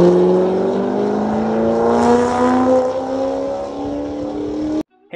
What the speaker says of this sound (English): I want to take you guys along for the ride in my Corvette C8 Stingray.